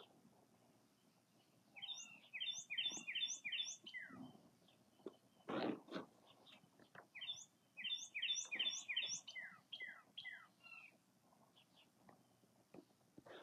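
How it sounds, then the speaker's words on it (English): Birds chirp outdoors in two bursts of rapid, high, repeated notes, separated by a few scattered calls and light rustling, all fairly quiet and with no talking. "I'm just going to listen to the birds."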